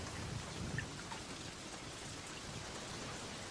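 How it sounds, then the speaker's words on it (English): Steady rain hisses as a constant, even wash with no distinct drops or voices, faint and continuous throughout. "This is just rain noise."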